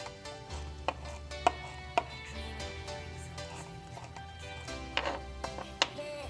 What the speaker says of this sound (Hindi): इसको बिल्कुल बारीक चॉप करना है।